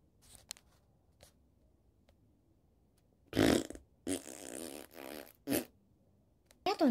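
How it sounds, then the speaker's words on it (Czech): A fart, short raspy bursts heard close and fairly loud in a quiet room, several separate blasts clustered in the middle of the clip, with faint small noises between them. "Ty jsi prdla."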